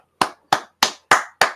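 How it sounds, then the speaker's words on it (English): Five sharp, evenly spaced claps ring out alone in quick succession at an MMA awards show, each a crisp isolated hand strike rather than a full crowd ovation. "Everybody give him a round of applause."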